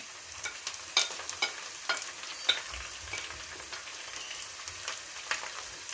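Turmeric, salt, chilli and ground coriander crackle and sizzle in a frying pot for chanay chawal, with a steady hiss broken by regular scraping clicks of stirring, close and without talk.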